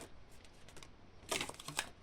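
Tarot cards being drawn and shuffled: brief papery flicks and rustles, faint and close, with a slightly louder burst of card handling toward the end.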